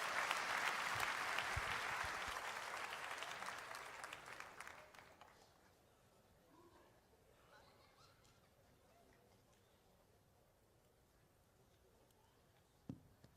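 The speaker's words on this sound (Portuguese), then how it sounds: "aplaudindo a Jesus bem forte" A church congregation at an ADVEC Penha service breaks into strong applause for the incoming pastor, dense clapping that fades out after about five seconds into near quiet, ending with a single faint knock.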